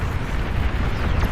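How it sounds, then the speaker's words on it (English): A commander unit blowing up in the real-time strategy game Beyond All Reason gives a loud, rumbling explosion with a deep low roar that sustains steadily through the short moment. "Enemy commander destroyed."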